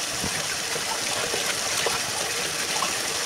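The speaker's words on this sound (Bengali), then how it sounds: "আর এই ফাঁকে আমি শাকটাকে সুন্দর করে ধুয়ে নিচ্ছি" Leafy greens are rinsed under a running tap, making a steady close gush and splash of water with no speech.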